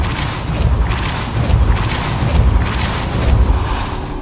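Spell effects from Hogwarts Legacy, a Repulsor charm blasting out as a series of loud, booming thumps with bursts of crackling noise, repeating roughly every second, with no talk.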